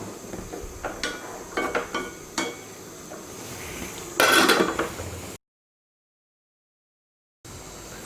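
Carrot and beans stir-fry being stirred in a pan, a series of close scraping and clinking strokes with a light sizzle beneath, then a brief louder clatter before the sound cuts out.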